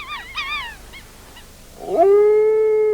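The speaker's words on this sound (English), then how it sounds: "Cubs howl for their mothers." Wolf cubs give high, wavering yips and short howls, then one cub breaks into a longer, rising, sustained howl. The sound is clear and fairly close.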